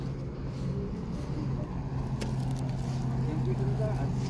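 A boat engine at a beach runs with a low, steady rumbling hum that stays even throughout, with people talking nearby over it.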